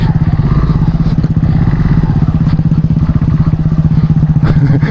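A motorcycle engine throbs in a rapid, steady rumble while the bike slides and struggles along a rough, broken road, loud and close, with clattering bumps throughout.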